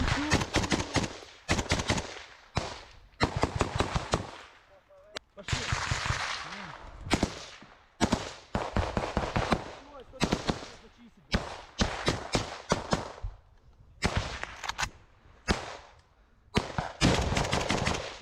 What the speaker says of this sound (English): We now see this Ukrainian soldier firing further down the tree line as the squad is behind him.